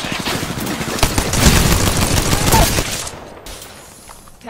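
Rapid automatic gunfire in a video game crackles in dense bursts, loud and close, then tapers off into quieter sounds with speech mixed in.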